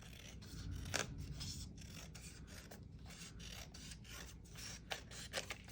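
Scissors trim patterned 12 x 12 paper in a string of soft, close snips and rasping cuts over a low background hum, with no talking.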